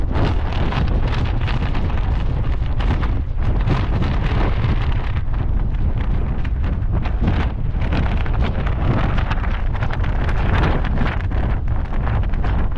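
Strong wind gusts batter the back of a tent at a wild camp, rattling and flapping the fabric hood in a loud, continuous buffeting roar with no voices.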